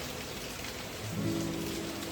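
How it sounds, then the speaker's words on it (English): Steady rain pattering on an eave over a rural doorway on a rainy day, a dense, even hiss of drops close by with a slightly heavier patch partway through, no voices. "Sitting under the eave at the doorway, listening to the pattering rain"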